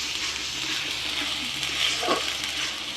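Onion paste and bay leaf fry in hot oil with a steady, close hiss of sizzling, broken by a brief stirring scrape near the middle, with no one talking.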